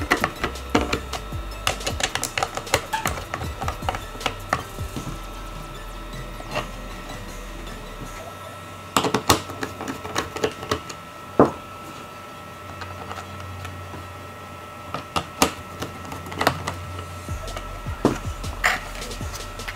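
Small screws are threaded by hand into a Brainiac tablet holder for a Subaru BRZ / Scion FR-S, producing irregular light clicks, ticks and scraping taps scattered over a quiet background.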